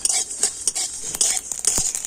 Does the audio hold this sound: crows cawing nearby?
no